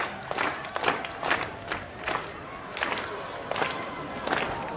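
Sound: crowd cheering in WWE 2K video game

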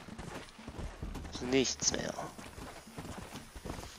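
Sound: donkey hooves clip-clop in Red Dead Redemption video game

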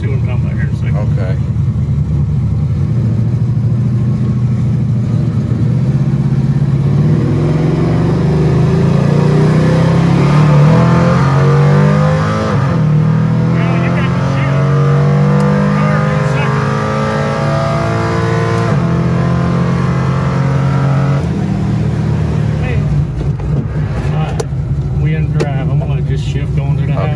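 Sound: 1973 Camaro Z-28 engine revving and shifting gears

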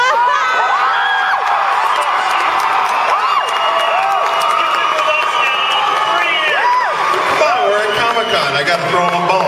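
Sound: Comic Con audience cheering

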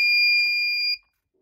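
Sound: Unipos F4000 smoke alarm sounding during test

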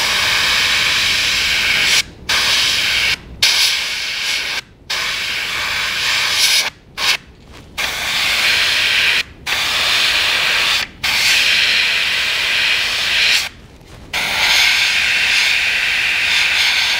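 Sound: spray painting gill plates on a fishing lure

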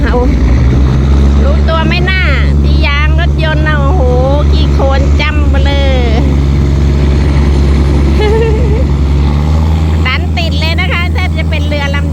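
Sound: tugboat engine towing a coal barge

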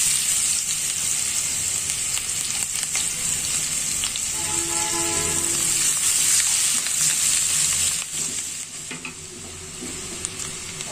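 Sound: onions frying in oil

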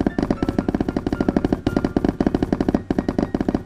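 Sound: Minecraft blocks being placed rapidly, from a video game

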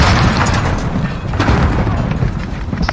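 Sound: gunfire in video game Call of Duty Modern Warfare

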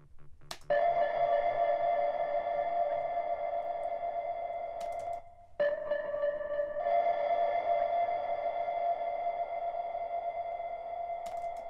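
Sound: reverb sound effect with sped-up attack, song sound design

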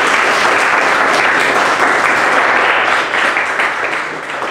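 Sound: audience applause

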